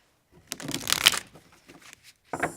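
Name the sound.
shuffling a tarot card deck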